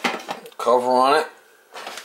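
A lid goes onto a pot of pea soup with a short clatter, then a ringing metallic tone swells for about half a second and fades; close and clear.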